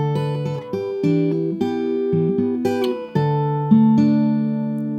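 Acoustic guitar plays a song at full speed, with quicker strums and picked notes changing every half second or so, bright and close with no talking.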